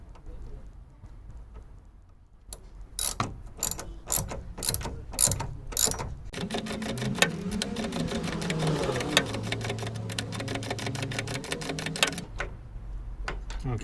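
Rapid ratchet clicking from a shallow socket tightening the top nut on a Fiat 500 front strut, first in short separate bursts, then a long steady run of dense clicks, close and clear with no talking.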